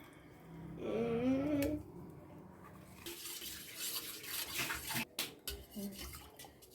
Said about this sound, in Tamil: தனியாக இருக்குது, இதை இப்போ கலந்துடலாம்